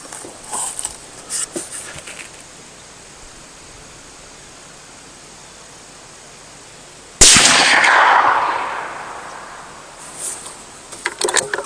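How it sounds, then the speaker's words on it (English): A single loud rifle shot from a Bergara Wilderness Terrain rifle cracks outdoors after a quiet stretch and rolls away in a long decaying echo. "I'm going to throw a few shots down there, 3 shots"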